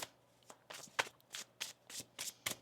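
A deck of tarot cards shuffled at close range, a quick series of about eight crisp riffling bursts in steady rhythm, quiet and with no talking.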